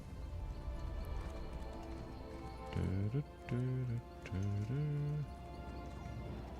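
Horse summoned in the video game Elder Scrolls Online, three loud neighing, whinnying bursts standing out over a steady game background hum, with a few hoof thuds.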